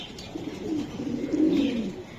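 A grizzle racing pigeon, a large cock bird, coos in a low, soft, rolling murmur that swells and continues steadily for about two seconds, close by with no talking.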